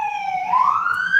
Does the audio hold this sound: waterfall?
no